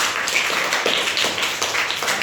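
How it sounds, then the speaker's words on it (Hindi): A class of students claps together, a dense, steady patter of many hands that runs unbroken for a couple of seconds with no voices on top. "ताली बजाइए।"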